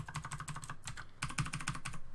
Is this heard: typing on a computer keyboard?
yes